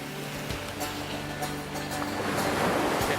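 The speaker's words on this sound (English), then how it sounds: "If you time it right, you can catch and surf the waves in." Ocean surf breaking near a kayak on open water, a steady, loud wash of waves with wind noise that swells toward the end, with no talking.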